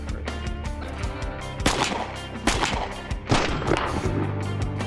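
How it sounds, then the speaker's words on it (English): Shots from a semi-automatic .45 caliber Tommy gun fired outdoors, several sharp cracks spaced about a second apart over a constant noisy background, fairly loud with no talking. "You shoot in the semi-automatic Tommy gun."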